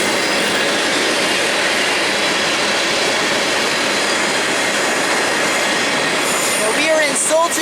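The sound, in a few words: BNSF freight train passing with wheels squealing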